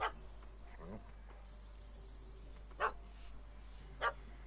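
In The Witcher 3: Wild Hunt, a dog gives a few short, sharp barks spaced seconds apart, moderately loud over a quiet ambient background.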